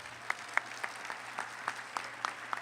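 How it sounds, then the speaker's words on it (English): Sparse, light applause from a small crowd at a graduation ceremony, scattered individual claps ringing out quietly with no talking. "Let's give them a round of applause."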